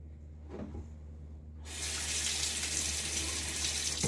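A Fatip Piccolo safety razor rinsed under a running tap: a brief knock and quiet room tone, then the faucet gushes on and streams steadily, close and loud.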